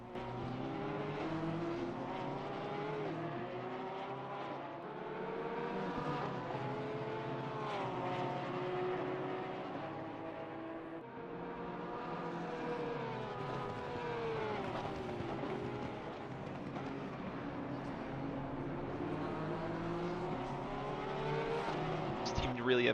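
Porsche race cars lapping Laguna Seca in a racing video game, engines droning loud and continuous with rising and falling pitch through gear changes, several cars overlapping, while a commentator talks throughout.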